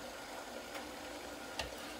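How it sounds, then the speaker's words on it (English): Meat frying in a hot pan, a steady broadband sizzle throughout with a couple of brief louder crackles, close and continuous with no talk. "I'm going to turn it up to high now because it started sizzling."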